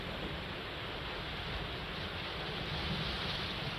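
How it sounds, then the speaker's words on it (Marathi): Water pouring through two fully opened curved gates of a dam on a river in Nandurbar during heavy monsoon rain, a steady, loud, broadband roar that stays even throughout with no pauses. "धरणाचे पैकी दोन वक्र दरवाजे पूर्णतः उघडण्यात आले असून पाण्याचा विसर्ग सुरू आहे"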